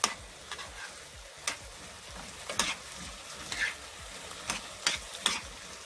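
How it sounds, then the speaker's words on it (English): Vegetables for roast conch sautéing in a pan, a soft continuous sizzle broken by sharp spatula taps and scrapes at irregular intervals, close up and without talk. "So I'm just sauteing my vegetable for 1 minute."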